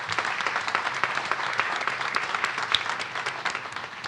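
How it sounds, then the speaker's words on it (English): Steady applause from a crowd at a grocery store opening in Bayview, San Francisco, dense clapping that holds at an even level throughout with no voices on top. "so give yourselves a round of applause."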